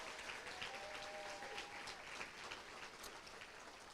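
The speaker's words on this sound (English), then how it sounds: "let's give all of our final nominees one more big round of applause." Steady applause from a large audience at a school district awards gala honoring final nominees, dense even clapping like rain, moderately distant, with a faint voice briefly audible.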